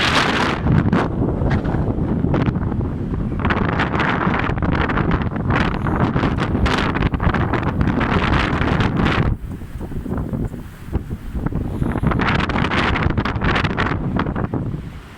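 Strong wind buffets the microphone in loud, rumbling gusts, easing briefly midway before blowing hard again, outdoors in Tallinn, Estonia.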